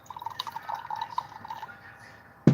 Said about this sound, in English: I'm gonna pour it into a glass.